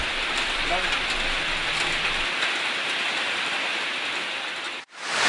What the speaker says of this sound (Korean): 갑자기 하늘에서 비가 내린다.